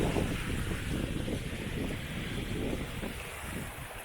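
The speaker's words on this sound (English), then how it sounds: "Still nice to get here and listen to the water and stuff. Watch it flowing." A river flows steadily outdoors on a breezy day, with a continuous broadband rush of moving water mixed with wind noise, fairly loud and constant throughout, without any talking.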